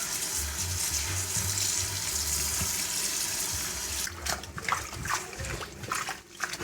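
Running water from a tap pours steadily over freshly plucked moringa leaves being rinsed, a continuous close splashing wash that turns choppier and more broken near the end as the leaves are handled.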